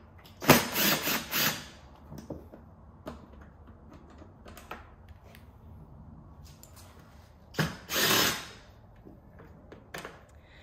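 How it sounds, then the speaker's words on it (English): A power tool removing 10 millimeter bolts at the back of a 2013-2021 Range Rover L405 during a tow hitch install, two short loud whirring bursts separated by quieter clicks and handling noises. "Now we'll grab these 10 millimeter bolts at the back here."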